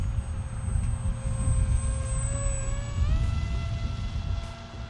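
A VolantexRC Ranger 767-2 RC FPV plane drones steadily as it banks through a tight turn, its motor pitch shifting partway through, heard alone over a low rumble of wind.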